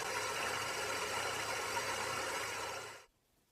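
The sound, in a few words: electric motor spinning at steady speed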